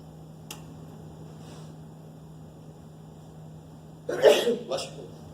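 A single sneeze in a lecture hall during a math class, a sharp loud burst followed by a short second puff, rising out of a quiet steady room hum near the end.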